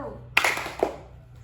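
Students in a classroom clap in a counted clap game, with two crisp, close claps spaced about half a second apart against a quiet room.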